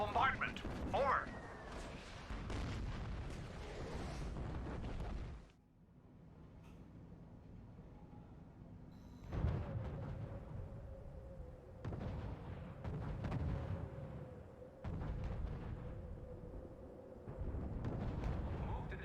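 Heavy naval shelling crashes down in the R.U.S.E. Utah Beach battle, booming blasts rolling one after another over a steady war din, with voices speaking through parts of it.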